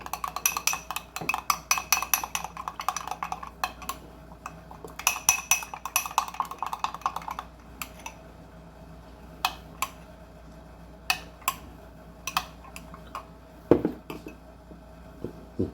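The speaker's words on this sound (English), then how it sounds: "Now we're going to mix this around so everything is incorporated." A spoon stirs homemade garlic sauce in a bowl for a copycat chicken-finger dip, giving a steady run of close, light clinks and scrapes that thin out into scattered taps, no talking.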